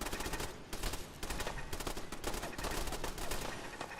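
Mark 5 incendiary turrets in Fallout 4 fire continuously in dense, rattling automatic bursts, loud and close, with short gaps between volleys and no talk.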